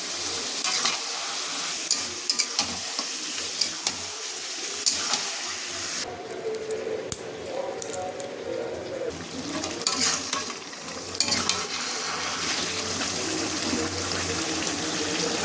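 Chicken sizzles in a pan with Kashmiri chili powder, turmeric and salt, steady frying hiss broken by scraping stirs and a brief quieter stretch, with no talking.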